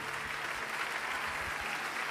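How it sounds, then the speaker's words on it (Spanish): A church congregation at a healing service applauds steadily, a soft, even wash of many hands clapping at a distance, with a faint low hum beneath and no voices. "Dale el aplauso al Señor."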